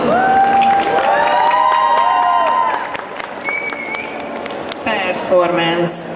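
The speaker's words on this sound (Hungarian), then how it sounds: "Tapsot!" An audience at a cosplay award ceremony at a Hungarian anime and comics convention claps and cheers loudly and steadily, with shouting voices and crowd noise layered over the applause throughout.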